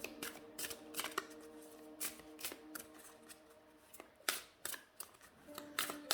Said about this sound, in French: mais pour les mélanger, elles se mélangent très très bien.